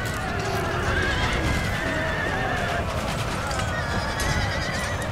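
Cavalry horses in Empire Total War whinny amid steady hoofbeats and battlefield noise, the neighing continuous across the stretch while a voice talks over it.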